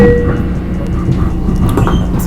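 Riding aboard a moving train, a close, loud rumble with rattling and clattering from the carriage and faint tonal squeals, continuous throughout with no talking.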